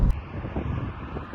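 Wind buffets the microphone in a steady low rumble, with a brief louder gust at the start and no voices.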